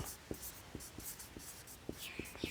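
A pen scratches on paper during a class 10 geometry exercise, soft strokes with small taps that come close and quiet in an uneven rhythm.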